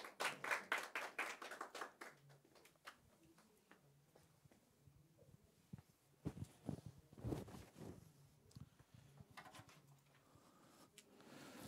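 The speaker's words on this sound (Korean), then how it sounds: "큰 박수로 맞이해 주시기 바랍니다" An audience at an education conference applauds to welcome a speaker, a brief burst of quick hand claps at the start, then quieter shuffling and scattered claps before another short patter of clapping, faint and somewhat distant.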